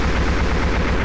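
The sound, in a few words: aircraft machine gun strafing in video game ARMA 2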